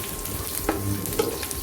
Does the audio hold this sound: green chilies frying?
yes